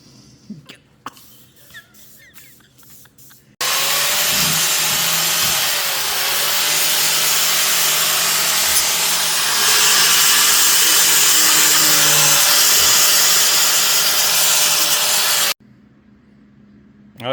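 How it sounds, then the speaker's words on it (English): A wire wheel grinds rust off a brake backing plate in a loud, sustained abrasive whir lasting about twelve seconds, with fluctuating pitch as the tool shifts, bracketed by quieter clatter and handling noises before and after. "I got the backing plate all wire wheeled."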